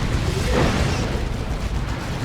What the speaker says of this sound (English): Decent plasma cannon hit.